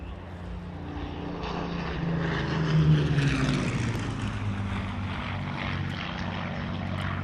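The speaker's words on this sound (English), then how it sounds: "nice to get that flyover from the Battle of Britain Memorial Flight, of course, the Hurricane today" Hawker Hurricane propeller fighter of the Battle of Britain Memorial Flight passing overhead at a drag racing event, a steady droning engine roar that swells toward the middle and holds loud through the pass, with no talk over it.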